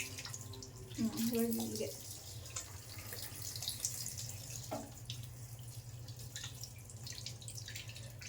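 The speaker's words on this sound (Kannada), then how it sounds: "ಫಿಶ್ ತೊಳೆಯೋದು ಇದೆಲ್ಲ ತುಂಬ ಕಷ್ಟ ಗೈಸ್" Tap water runs steadily into a sink while fish is washed by hand, a continuous low splashing stream with occasional clinks, as a person speaks briefly over it.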